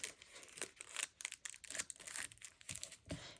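Paper, either a coffee filter or a book page, being folded and creased into a flower, giving a run of soft, close crinkles and rustles in irregular bursts with no talking.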